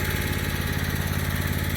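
A zero-turn riding lawn mower runs with a steady, loud, close engine drone and a regular pulsing throb, with no voices.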